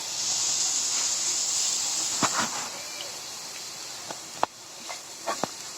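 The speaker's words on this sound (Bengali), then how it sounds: "এভাবে কিছুক্ষণ ভেজে নেব।" Radish vermicelli with coconut fries in a pan, giving a steady soft hiss with a few faint scrapes and taps of stirring.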